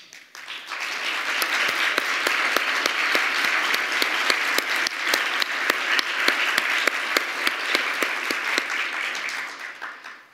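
A large audience at an anniversary celebration applauds the board members, a dense, sustained roar of many hands clapping that swells quickly, holds steady for about ten seconds, then tapers off.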